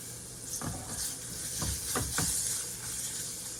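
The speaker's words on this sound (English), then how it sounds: "cooking up this gravy. But adding more flavor to it with the peppers and onions" Pepper steak gravy with peppers and onions simmering in a pan, a soft, steady sizzle and bubbling hiss with a few quiet stirring scrapes, close and without talk.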